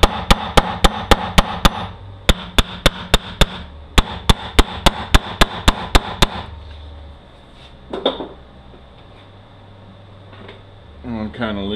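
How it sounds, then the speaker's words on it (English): A hammer strikes metal repeatedly during the disassembly of an MRVA, landing rapid, evenly spaced sharp blows in three quick bursts, then stops, leaving a faint hum, a couple of soft clunks and a brief voice. "And take a hammer straight as you can."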